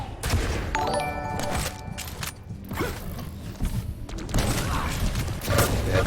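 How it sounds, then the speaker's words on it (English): Rocket launcher fire in a Quake duel match, several sharp blasts and explosions in quick succession amid clattering game effects and mechanical noises, loud and dense. "Just keeps it up with the rocket launcher."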